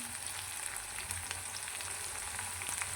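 Onion frying in a pan toward golden brown gives a steady, soft sizzle with light crackles, close and continuous, with no one talking.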